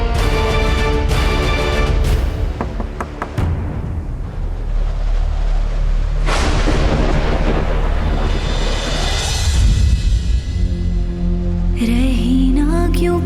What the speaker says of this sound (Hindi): आज इतना तूफान क्यों है?